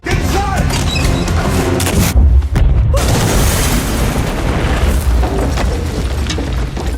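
A heavy boom bursts out amid loud, dense noise, with rumbling and crackling before and after the blast.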